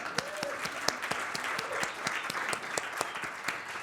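Applause from an audience at a fashion showcase greets the models, a steady, moderately loud patter of many hands with distinct sharp claps standing out throughout.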